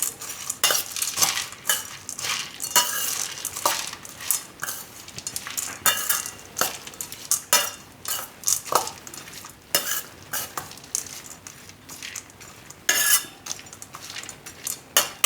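A spoon stirs boondi into a broccoli and corn yogurt raita in a bowl, with repeated close clinks and scrapes in an uneven rhythm and no talking.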